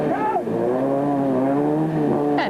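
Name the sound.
rally car driving past a stuck car in mud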